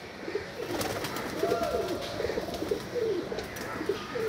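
Teddy pigeons cooing in a loft, soft repeated low coos from a few birds close by, over a steady background hiss with faint chirps.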